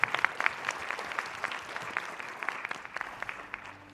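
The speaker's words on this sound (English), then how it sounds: "Everybody, let's give a round of applause to Sun-Hyuk." Audience applause follows a startup pitch at a space-industry challenge event: steady, dense clapping from a seated crowd at moderate level, with no talking over it.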